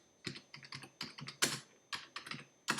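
Keys clatter on a computer keyboard in quick, uneven bursts of close, crisp clicks, with short pauses between runs of typing and no voices.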